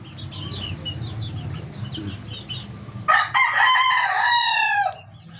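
Straight-breed golden boy and 5K sweater gamefowl roosters give a loud, close crow after a stretch of soft clucking and farmyard background noise.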